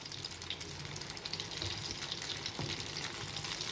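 Masoor lentil cutlets deep frying in oil make a continuous, fairly quiet bubbling hiss that holds steady throughout, with no voices.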